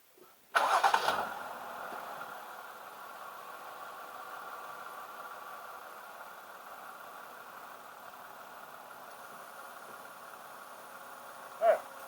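A vehicle engine cranks over and catches at the start, then settles into a steady, fairly quiet idle for several seconds, with one brief louder blip near the end.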